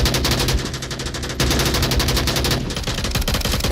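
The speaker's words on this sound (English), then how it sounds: "The gunfire." Rapid automatic gunfire in the VR shooter game Onward during a competitive match, loud continuous bursts with a brief gap before firing resumes.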